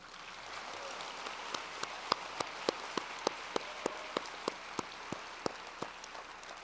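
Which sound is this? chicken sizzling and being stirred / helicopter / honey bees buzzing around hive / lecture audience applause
lecture audience applause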